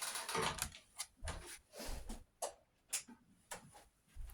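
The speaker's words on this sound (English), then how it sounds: "It's a very, very vocal sewing machine." A sewing machine runs in short bursts, its needle ticking and clattering rhythmically, stopping and starting several times, fairly close and moderately quiet.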